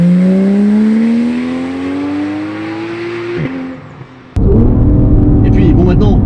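A Porsche 911 GT3 991.1 flat-six climbs in a long, smooth rising rev, dips briefly, then bursts into a loud, full-throttle roar close by.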